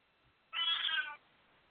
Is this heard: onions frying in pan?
no